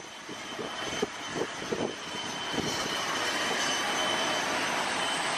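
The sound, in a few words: airplanes at airport taking off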